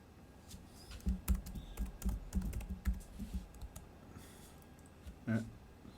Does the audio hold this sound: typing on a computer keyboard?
yes